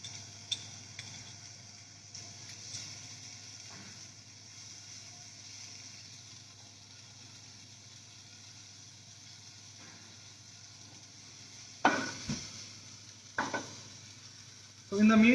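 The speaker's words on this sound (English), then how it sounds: "So in the meantime, our capsicum is getting cooked." Chopped red and yellow capsicum frying with garlic in oil in a pan, a steady soft sizzle throughout with occasional stirring clatters near the end, no talking.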